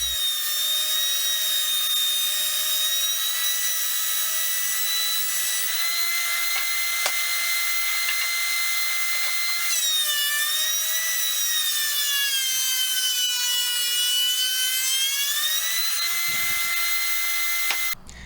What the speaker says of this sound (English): make sure you run each board under the same setting before you readjust the planer